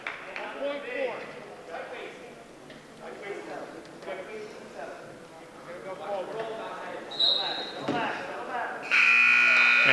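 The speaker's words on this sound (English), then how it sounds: "there's the buzzer for the end of this match" A loud electronic buzzer sounds at the end of a high school varsity wrestling match in a gym, a sustained tone breaking in after crowd noise and an announcer's commentary.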